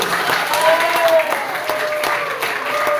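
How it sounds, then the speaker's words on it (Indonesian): An audience at a school presentation on positive culture applauds the speaker with steady, close clapping, while a voice carries faintly beneath it. "Kita kasih tepuk tangan lagi"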